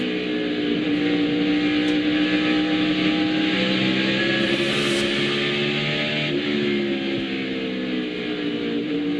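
800-horsepower race car engines at the 2001 Food City 500 roar continuously and loudly, a dense, steady engine drone with shifting harmonic pitch as the throttle is held open, with no talk over it.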